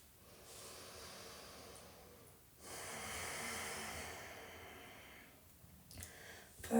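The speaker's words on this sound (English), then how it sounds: "One more breath." Deep, slow breathing during a gentle yoga stretch session, with long airy inhales and exhales rising and falling close to the mic in a quiet room.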